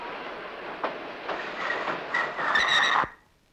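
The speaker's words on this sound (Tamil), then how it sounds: "ரயில் நிக்குது வா இறங்கலாம்" A train runs on rails with rhythmic clickety-clack beats and rising metallic squeals, moderately loud, before the sound cuts off abruptly into near silence.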